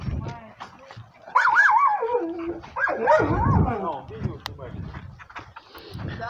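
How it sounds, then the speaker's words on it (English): Dogs outdoors beside an outhouse toilet in a vegetable garden whine, yip and bark in close bursts, with high wavering whimpers in the middle and a few short sharp yips around them. "With the dogs guarding the toilet."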